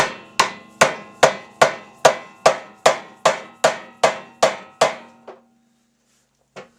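A snow plow part is hammered out of its collar with about a dozen sharp metallic blows struck at an even, quick rhythm, ringing briefly after each hit, then stopping, followed by one last lone strike.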